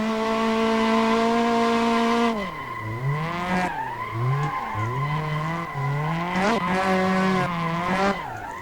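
A turbocharged 4AG 20-valve engine in a KE70 Corolla drifting in the Assetto Corsa sim, revving high and steady, then bouncing up and down through rapid throttle blips and shifts with tire squeal, loud and close with no talking.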